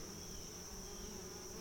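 Honey bees buzzing in a hive during an inspection, a dense, continuous droning hum from many insects, steady and close throughout.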